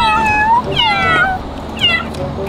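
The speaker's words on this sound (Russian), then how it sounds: "Да кто-то мяукает, вы слышите? Котенок в машину залез." A kitten hidden inside a car meows loudly and close by, three rising-and-falling cries spaced evenly apart, with no talk over them.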